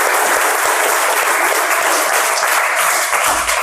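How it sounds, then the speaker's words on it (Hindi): Loud, dense audience applause for a children's GK quiz show modelled on KBC, steady clapping filling the whole stretch without letup and no voices on top. "एक जोरदार ताली होनी चाहिए"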